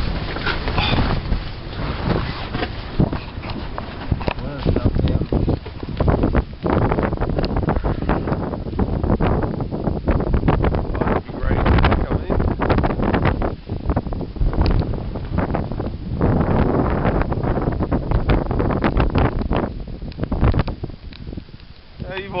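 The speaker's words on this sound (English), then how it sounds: "It's freezing cold and windy as anything." Strong, freezing wind blasts and buffets the microphone continuously, a loud roaring rumble with gusty surges, while a voice speaks intermittently beneath it.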